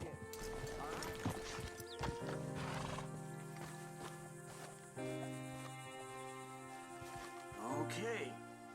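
Horse hooves clip-clopping at a steady riding pace in Red Dead Redemption 2, with a whinny and insect chirps around, while characters talk over them.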